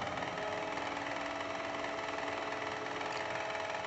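A Philips VR757 VCR tape mechanism whirs with a steady, faint motor hum and soft mechanical buzz, running continuously at close range with no voices.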